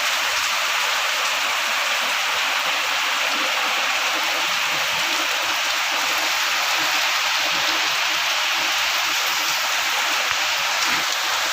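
Rain falls steadily in Sengurichi village, S. Pandiyanur. It makes a dense, even hiss of drops hitting surfaces that stays at the same loudness without pause from start to end.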